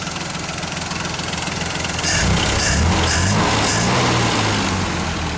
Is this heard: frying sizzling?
no